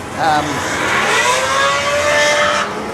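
Speedway race car at Oceanview Speedway in Wanganui, New Zealand, its engine revving and climbing in pitch, loud and fairly close for a few seconds before easing off, with a faint background murmur.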